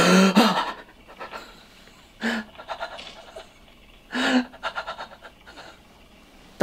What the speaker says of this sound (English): That's my scared breathing.